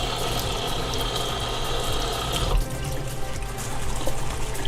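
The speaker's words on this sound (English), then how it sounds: "Give it a nice wash." Vegetables rinsed under a running kitchen tap, a steady close rush of water that changes character about halfway through, with faint clinks underneath and no talking.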